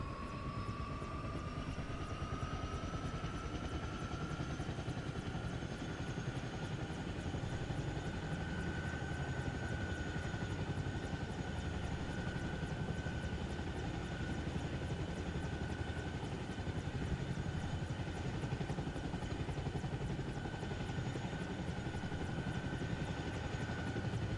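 A video game helicopter spooling up for lift-off, a steady loud rotor and turbine drone with a whine that rises in pitch, then holds through the whole stretch.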